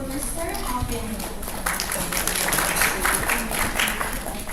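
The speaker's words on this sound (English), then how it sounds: "Please give a round of applause for Mr. Alvin." Applause at an alumni meeting greets a presenter stepping up to lead a game: scattered clapping from a modest group, moderately faint and swelling toward the middle, with a voice audible underneath.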